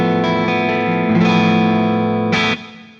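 Electric guitar played through a JAM Double Dreamer dual overdrive pedal into a Soldano SLO amp on its second channel, ringing distorted chords that sustain and are restruck, loud and close, fading out at the end.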